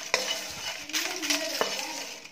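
Whole spices being dry-roasted and stirred in a pan for homemade curry masala powder, with a soft crackle and the scrape and clink of a metal spoon against the pan, close and continuous.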